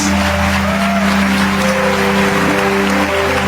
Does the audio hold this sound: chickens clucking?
no